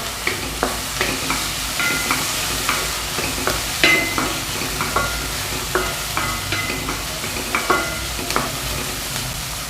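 Carrots and capsicum sauté in a hot pan, a steady sizzle running throughout while a spoon stirs and scrapes in repeated clinks and scuffs, fairly close and alone with no voices.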